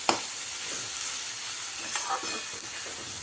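Water spinach (kolmi shak) with shrimp frying in a pan on low gas, a steady soft sizzle and hiss with a few faint stirring scrapes, no talking.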